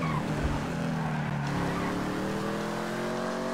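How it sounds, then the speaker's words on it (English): A Lamborghini supercar engine in GTA 5 drones steadily and loudly, its pitch climbing smoothly as the car accelerates through the whole stretch. "it's actually having a good engine"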